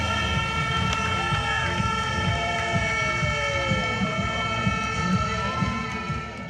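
A horn sounds to start a women's 5 km running race, a long, sustained tonal blast held steadily over rumbling background noise before fading slightly at the end.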